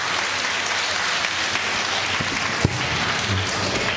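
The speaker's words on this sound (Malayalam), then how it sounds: "ഒന്ന് ഉറക്കനെ കൈയടിച്ചാട്ടെ എല്ലാവരും." A crowd at a school annual day inauguration claps loudly and steadily, a dense sustained wash of applause from many hands close by, with no talk over it.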